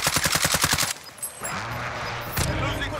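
Rapid automatic gunfire in Call of Duty: Modern Warfare, a fast train of about a dozen shots in the first second, followed by scattered game noise and a later burst, loud and close.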